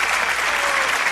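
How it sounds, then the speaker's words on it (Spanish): Audience applause for the musicians at a Venezuelan Christmas comedy show, a dense, steady wash of many hands clapping without pause, loud and close. "un aplauso para los músicos de Rafucho Maracucho"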